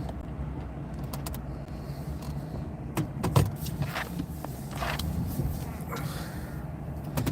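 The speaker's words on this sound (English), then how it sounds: "Swing the truck around in the woods without smashing into stuff." A truck is swung around among trees in the woods, its low engine rumble steady throughout, with small knocks and brush sounds around the middle.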